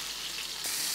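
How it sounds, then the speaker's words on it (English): Pork sizzles steadily in a hot frying pan, a close, continuous hiss and crackle with no voices. "now that that frying pan is nice and hot, I'm going to add my pork"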